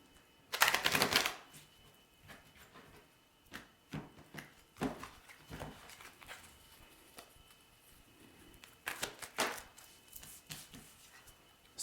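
Cards from an Oracle tarot deck being shuffled and handled, with quiet, irregular bursts of riffling and soft tapping close by, one louder riffle near the start and another toward the end.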